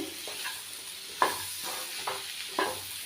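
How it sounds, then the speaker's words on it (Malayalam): Mango pickle is stirred in a pan so every mango piece gets coated, producing soft repeated scraping strokes at a slow rhythm over a low, steady sizzle. "ഇത് നല്ലപോലെ ഇളക്കിയിട്ട് ഈ മാങ്ങേൻ്റെ എല്ലാ പീസിലും മിക്സ് ആവുന്ന രൂപത്തിൽ ഇളക്കിക്കൊണ്ടിരിക്കുക"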